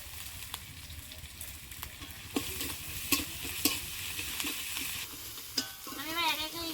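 Garlic paste and ginger paste frying with browned onions in a pan, a continuous close sizzle broken by scraping stirs and several sharp clanks of a spatula against the pan.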